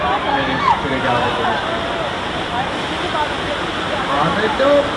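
Rushing water effect on the Universal Studios tour pours in a dense, continuous loud roar, like a cascading flood, with tour riders chattering faintly underneath.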